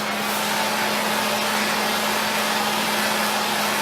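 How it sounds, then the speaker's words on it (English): A blow torch heats coated metal with a loud, steady roaring hiss and a low hum, close up and continuous throughout. "I'm going to gradually heat the metal instead of just directly blowing the torch right on this one spot"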